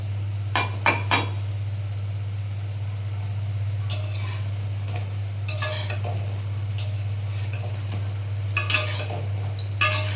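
Drumstick leaf fritters frying in a pan over a steady low hum, with sharp clinks and scrapes of a utensil against the pan coming in scattered bursts, close and fairly loud.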